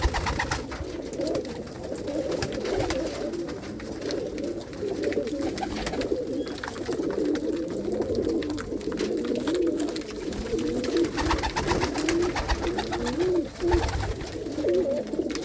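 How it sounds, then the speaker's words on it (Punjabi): Several pigeons coo steadily nearby in a coop, their low throaty burbling overlapping continuously, with faint clicks and shuffling in the background. "ਕਬੂਤਰੀਆਂ ਦੇ ਵੀ ਵਜੂਦ ਦੇਖ ਲਓ"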